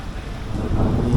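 Dense, rumbling downpour of heavy rain outside a temple, filling the whole moment, loud and close, with no voices.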